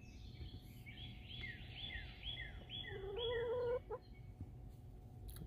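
A backyard chicken clucks among strawberry plants: a run of short, quick calls builds into a longer, louder squawk before breaking off, over a steady low background hum.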